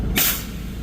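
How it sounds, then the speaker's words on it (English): A bus parking brake being pulled releases a sudden loud burst of air that hisses briefly, then fades quickly, heard up close with no talking. "Let me pull that parking brake again."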